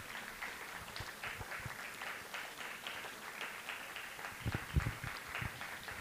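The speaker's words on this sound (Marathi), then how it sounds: "तर आपण जोरदार टाळ्या वाजवूयात वरद जाधवसाठी" An audience at a school annual function applauds a student performer, a steady wash of many hands clapping at moderate distance, continuous throughout with a slight swell near the end.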